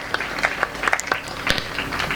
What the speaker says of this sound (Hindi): हम तालियों के नाद से उनका स्वागत करते हैं